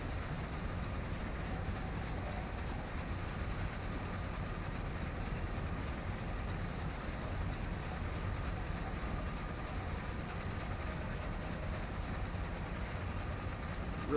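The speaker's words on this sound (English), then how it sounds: "Really get to hear that squealing on those brakes." Steady, continuous rumble of a heavy freight train of 160 loaded cars in Train Sim World 4, slowing under braking, with a high metallic brake squeal running throughout, loud and unbroken.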